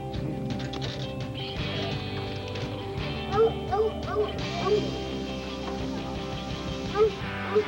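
Hunting gun dogs bark in short, scattered yips, several in quick succession and then another later on, fairly distant over a steady background hum.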